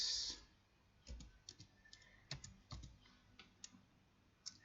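Keys tapped on a computer keyboard in irregular bursts of crisp, close clicks, a few heavier strokes like an enter press among them, quiet with no voices.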